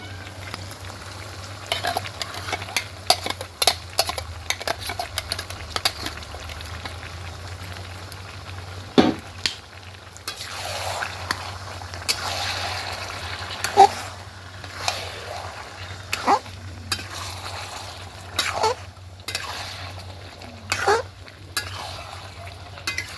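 A paste of ginger, garlic and green chili stirred into meat frying in a pan, with a steady sizzle and scraping spoon strokes at close range throughout.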